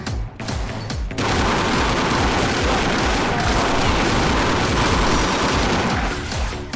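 Gunfire in the video game Counter-Strike Online, with a dense, continuous volley of loud shots and booms from powerful shotguns and other guns, rapid and overlapping for several seconds.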